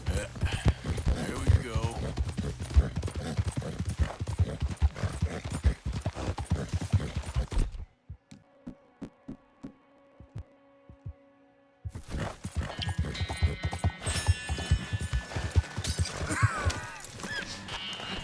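A horse gallops in Red Dead Redemption 2, its hooves pounding in fast, loud, close clip-clop rhythm, breaking off into a few seconds of near silence before the galloping resumes. A voice speaks briefly over it.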